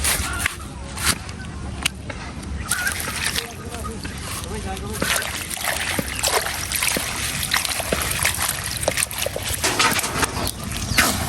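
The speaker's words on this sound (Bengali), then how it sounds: "শাক ধুতে।" Water sloshes and splashes continuously while leafy greens are rinsed by hand for a home-cooked Bengali meal, with steady trickling and irregular splashes close by, and a voice speaks in the background.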